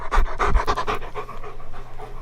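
Cam, a dog, pants rapidly and steadily up close, quick rhythmic breaths filling the moment with no talking.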